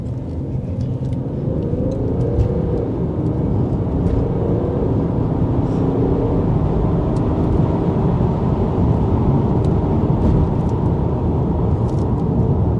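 A BMW 535d M Sport F10 twin-turbo diesel saloon pulls away hard from first gear, heard from inside as a steady, loud low engine rumble that builds without letup.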